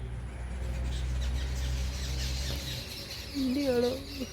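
Harsh bird calls from a group of jungle babblers sound near the end, after a steady low rumble, with chattering notes rising over background noise.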